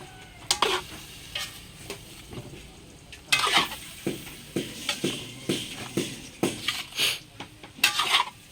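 Green beans are stirred in a cooking pan, with repeated scraping, clattering strokes at an uneven rhythm over a soft sizzle, close and fairly loud.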